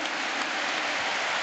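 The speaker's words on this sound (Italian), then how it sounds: "L'applauso che sentite per Deki Stankovic" A stadium crowd at an Inter versus Roma football match applauds Dejan Stanković in a steady, dense wash of distant clapping with no break.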